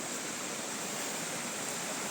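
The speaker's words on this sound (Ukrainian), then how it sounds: "Йдемо по цьому болоті до цього прекрасного освіджаючого шумного струмочка." A small, lively stream rushes past beside a marshy path, making a soft, steady hiss of running water with no voices.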